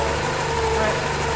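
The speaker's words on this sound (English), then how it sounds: "I may have the belt like a little tight, or maybe it's just a new belt. It's gonna make noise." Porsche 924S engine idling just after a timing belt replacement, a steady close mechanical drone with a faint whine from the new belt, with a voice talking over it.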